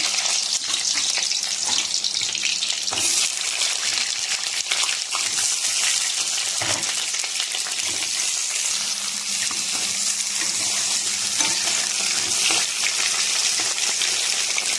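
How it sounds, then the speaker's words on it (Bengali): Pointed gourd frying in mustard oil in a hot kadai over a clay stove gives a loud, continuous sizzle with dense crackling throughout, and no one speaks. "তেল গরম হয়ে গেছে, দেবো পটল।"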